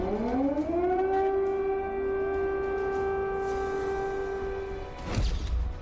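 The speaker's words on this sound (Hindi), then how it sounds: "चौबीस घंटे से क्रेमलिन में सायरन बज रहा है।" A civil defense siren at the Kremlin winds up and holds a loud, steady wail, then cuts off, followed by a brief thump.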